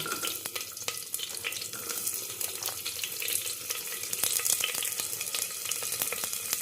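Chopped onions frying in a pan for veg biryani, a steady, fairly close sizzle and crackle running throughout with no talking.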